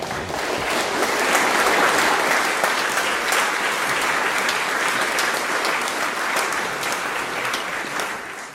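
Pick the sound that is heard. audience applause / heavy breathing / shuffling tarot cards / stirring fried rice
audience applause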